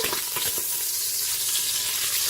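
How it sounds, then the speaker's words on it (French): Lamb osso buco meat sizzling steadily in a Cookeo pot as the piece is turned over. The frying hiss is close and continuous, with no one speaking. "Donc je retourne mon morceau de viande."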